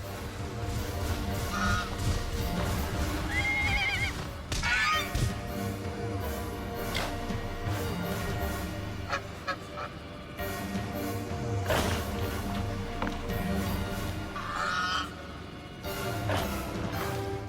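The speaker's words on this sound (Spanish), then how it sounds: "Era una presa fácil para un pájaro carnívoro de 2 metros de altura." Diatryma, a two-metre carnivorous prehistoric bird, calls in a documentary effect. Loud goose-like honks repeat at irregular intervals over a dense rumbling background, with occasional thuds.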